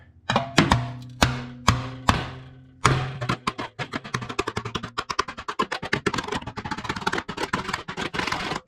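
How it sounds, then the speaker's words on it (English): Several loud, sharp metallic strikes as a hammer flattens a metal bracket for a turbo setup on a Honda Civic D16Y7, ringing out in a slow series, then quicker, lighter tapping and clattering. "Now, obviously, we get a hammer and we just schmacko it here."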